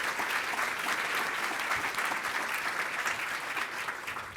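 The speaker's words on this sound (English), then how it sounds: "Let's give our volunteers a great round of applause." An audience at a city State of the City address claps for community volunteers, dense steady applause from many hands filling the room, loud and sustained without pause.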